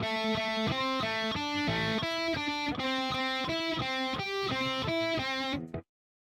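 A heavily distorted electric guitar chugs through a fast repeating riff, loud and up close, then stops abruptly.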